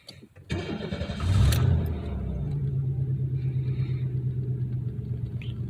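A 1993 Chevy Lumina cranks and fires, rising into a brief louder rev before settling into a steady, low idle rumble, close up with no talking.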